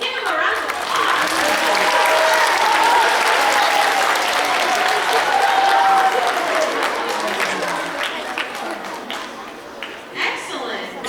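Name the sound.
audience applause at choir concert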